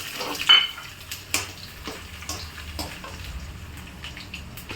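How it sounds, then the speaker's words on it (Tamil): Soft sizzling of mustard seeds in hot oil with scattered small pops and crackles, steady and fairly quiet, close by. "எண்ணெய் நல்லா கொதிச்செடுத்து படப்பட பட படப்படன்ட்டு நல்லா கடுகு பொரியட்டும்"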